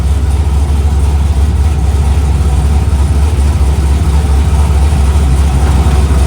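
A Pontiac Firebird's engine runs loud and close during test hits, a deep steady rumble that holds constant with no talking over it.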